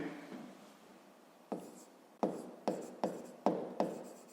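Chalk or marker writing on a board during a fifth-grade maths lesson, a faint scratch followed by several sharp tapping strokes in a quick uneven rhythm, close and clear with no voice.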